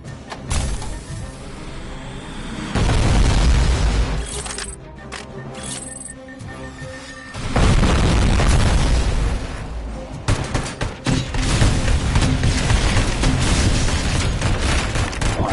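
Heavy booming blasts and gunfire fill the scene as a grenade launcher is fired in the video game RoboCop: Rogue City, loud dense explosions rolling almost continuously with brief lulls between bursts.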